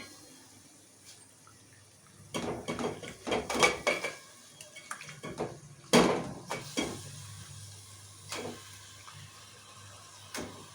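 Chicken pieces being mixed into a curry base with coriander powder and tempering in a pot, giving scattered clanks and scrapes of a utensil against the pot in irregular bursts, fairly close, with no talk.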